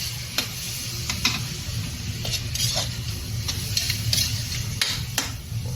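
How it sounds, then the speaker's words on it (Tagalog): Spoon stirring beef tongue stew in a pot, with repeated scraping and clinking strokes over a steady background sizzle, close and moderately loud. "Haluin natin"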